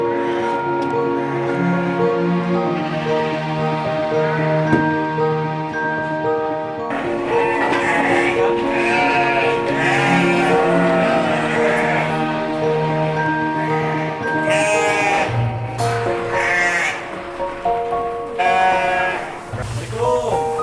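Garut sheep bleat repeatedly on a breeding farm, wavering cries coming and going near and far, mixed with background music and some talk.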